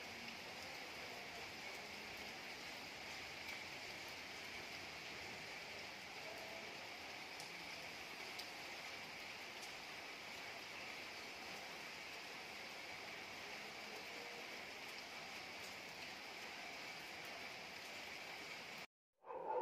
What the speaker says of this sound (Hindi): अचानक इतनी तेज़ बारिश होने लगी